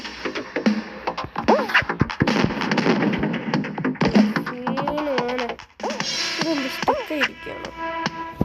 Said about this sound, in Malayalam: കണ്ടോ പടക്കം വിടുന്ന കണ്ടോ